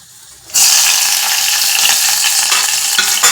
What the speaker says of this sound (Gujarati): આ મરચા શેકી લો